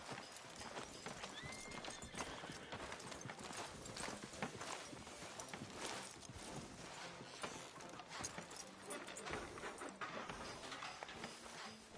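Horse hooves clip-clop steadily on a street in a PS4 video game, close and continuous, with an occasional whinny under dense ambient game sound.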